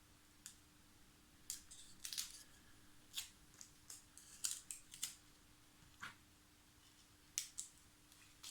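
Scissors snip through material for a park flyer model plane, a dozen or so quiet, crisp cuts at uneven intervals over a faint steady hum.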